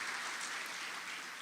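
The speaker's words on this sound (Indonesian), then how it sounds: "Kasih tepuk tangan buat Tuhan kita." Church congregation applauding together, a steady wash of many hands clapping at moderate level with no voices over it.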